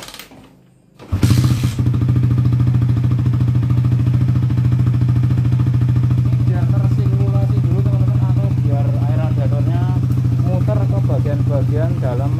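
A Suzuki Satria FU FI motorcycle engine catches after a kick start and settles into a loud, steady, close idle with a rhythmic throb, while someone talks over the running engine.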